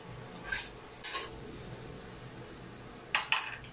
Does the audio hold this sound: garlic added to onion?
yes